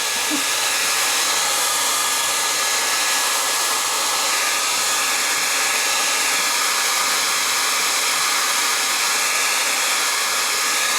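A heat gun warms the adhesive behind a Corvette emblem, giving a loud, constant blowing hiss that runs unbroken from start to finish with no talking.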